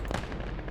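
Heavy artillery fire in a WWII battle game set during the fall of France, with tanks nearby: a dense, continuous rumble of booming blasts and crackling bursts, loud and close, with no talk.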